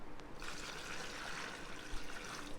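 Water pours steadily into a dish while making eggplant parmesan, a soft, splashing trickle for a couple of seconds, close by and fairly quiet.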